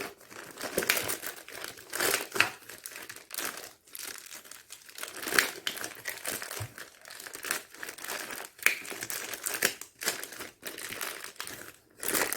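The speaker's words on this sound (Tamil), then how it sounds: "இந்த மாதிரி நம்ம இந்த கவரை இதுக்குள்ளே மாட்டி விட்டுடலாம்" Plastic cover crinkling and crackling as it is fitted over a kitchen container, a close, irregular run of rustles and crunches with brief pauses, no talk.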